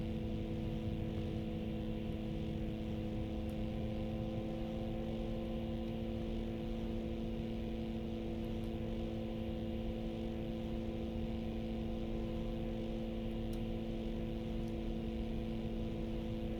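Shrike 530F aircraft engine idling steadily in MSFS 2024, a continuous droning hum with strong low tonal harmonics, even and unbroken throughout as the RPMs settle, with no voices.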